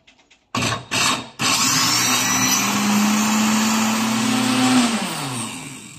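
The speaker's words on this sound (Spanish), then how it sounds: "procedemos a encender nuestra licuadora" A blender whirs to life after a couple of short bursts, then runs loud and steady, its motor pitch shifting slightly as it churns spinach and water.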